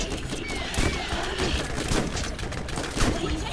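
Rapid bursts of gunfire from the Hydra gun in the Borderlands video game, loud dense shots cracking over a noisy game soundscape with sharp peaks near the start and end.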